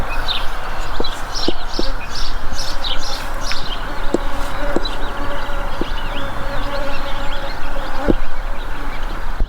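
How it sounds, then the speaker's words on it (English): Steady bee buzzing hums throughout at a garden pollinator house, with a busy, close drone that rises and falls as several small bees move around nearby, plus faint birdsong far off. "Here's our pollinator house for the little bees and other pollinators."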